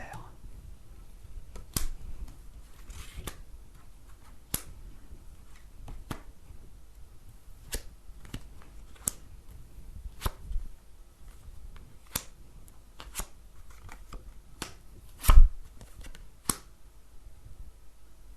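Tarot cards set down one by one on a table during a live psychic reading broadcast, giving soft, irregular taps and light slaps spaced a second or two apart, with one sharper knock, over a low room background.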